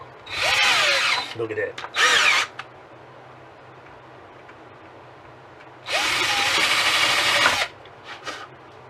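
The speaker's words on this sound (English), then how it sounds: "So drill a pilot hole in there like that" A handheld power drill with an old keyed chuck drills a pilot hole for an antenna mount. Loud, close whirring bursts come at the start and again after a pause, and someone speaks briefly.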